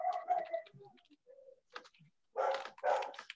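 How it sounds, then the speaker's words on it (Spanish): A pet dog barks in the background of a conversation, giving a few loud, close barks in two bursts near the end, with whimpering sounds earlier. "a propósito de tu perro que tenía ahí, ¿ya? Que también se escucha de fondo, la bestia"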